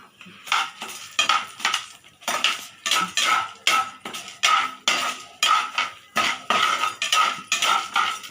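Urad dal and chana dal sautéed in a pan for kara chutney, a rhythmic run of loud metal spatula scrapes and clanks against the pan, about a dozen strokes in steady succession, no talk.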